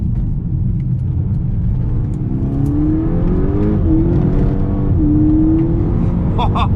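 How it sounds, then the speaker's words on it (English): Golf GTI 35 Edition accelerating hard on a test drive, a loud close engine roar rising in pitch through the gears with brief dips at shifts, continuous throughout. "Taking it for a cheeky test drive."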